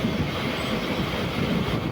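A fast-moving MEMU electric train roars past up close at night between Punalur and Kollam, a loud, steady rumble with rattling wheels and no voices.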